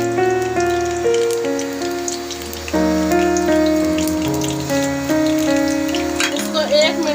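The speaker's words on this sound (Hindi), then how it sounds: "हम आधा कप तेल डाल और इसके अंदर हम साबुत मसाले डालेंगे।" Whole spices dropped into half a cup of hot oil for chicken qorma sizzle steadily, a soft crackling hiss under louder background music.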